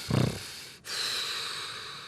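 A person imitates a sleeping bear's snoring with one loud, rough snorting breath, followed by a long, soft, airy exhale fading into quiet hiss.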